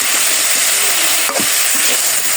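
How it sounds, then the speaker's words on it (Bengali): Vegetables sizzle steadily in a hot pan with salt, dried chili powder, cumin and turmeric as they are stirred, giving a close, even frying hiss with one brief clatter of the spoon partway through. "এখন নাড়াচাড়া দেবো"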